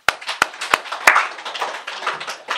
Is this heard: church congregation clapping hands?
yes